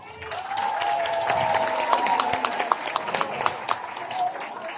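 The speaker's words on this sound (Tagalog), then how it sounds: "Palakpakan nyo naman ang slate ng PDP laban senatorial." A crowd at a PDP Laban political rally breaks into applause, a dense clapping wash that builds and holds, with a few sharper claps and some cheering over a sustained tone.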